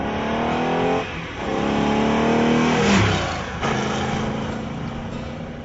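A 1971 Plymouth 'Cuda with a 440 Six Pack V8 and 4.10 gears accelerates hard, its loud engine note climbing steadily and dipping briefly at two gear changes before pulling again.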